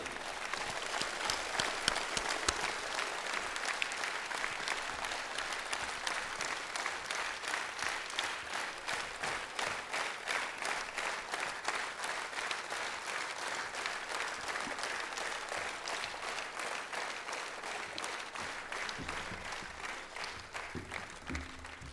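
A large audience claps steadily at a sports gala, sustained dense applause lasting the whole stretch, loud and even with only slight swells and a gradual fade near the end.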